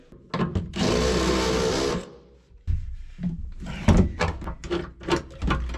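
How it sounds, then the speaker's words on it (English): A power drill enlarges a hole in a vehicle body before a rivet nut is set, giving a loud, close whine lasting about a second, then a series of sharp metallic clicks, taps and handling knocks. "there's a hole. So we're just going to give that hole a little waller and nut sert it"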